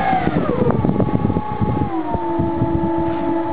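Electric motors on a foam RC B-25 Mitchell model run up close with a steady, rising and shifting whine, holding at a constant pitch after a brief change partway through.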